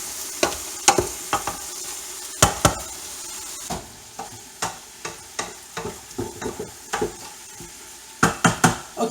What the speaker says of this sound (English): now the onions are starting to clarify. They're starting to reduce down there a little bit with the garlic